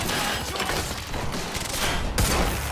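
Rapid gunfire in the Quantum Break video game, a dense, loud burst of overlapping shots that continues nearly without pause, with a sharp heavy report near the end.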